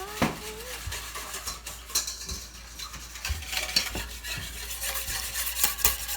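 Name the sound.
stirring butter chicken mixture in a pot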